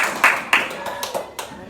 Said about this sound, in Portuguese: Palmas para a Núbia. Palmas